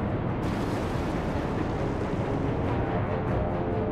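A torpedo launches in the naval video game Atlantic Fleet, heard as a steady, loud rushing roar with a sharp onset that keeps up with little change for several seconds, with no voices over it.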